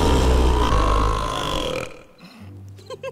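A long, loud, rumbling belch from a cartoon bear, close and drawn out, fading into quieter sounds at the end.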